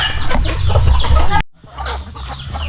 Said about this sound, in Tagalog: nakantay na yung mga manok